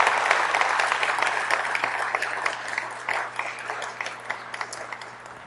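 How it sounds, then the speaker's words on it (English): An outdoor crowd claps for America's Cup sailing competitors at a welcome event, a dense burst of applause that stays strong for several seconds, then thins slightly with scattered claps near the end. "Please, ladies and gentlemen, give them a round of applause for their presence here."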